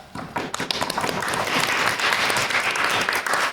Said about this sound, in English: I'd like to give a round of applause again for our winners of the Shannon, which was Poe and Beth,